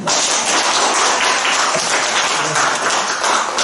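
Audience at a Sunday environmental Dharma gathering at a Buddhist temple in Haeundae, Busan, applauding for a team leader, a dense, sustained round of clapping heard up close and loud, with no talk over it.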